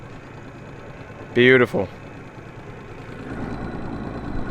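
A Stratos boat's repaired 200 outboard engine idles with a steady low hum, and a voice briefly speaks over it partway through.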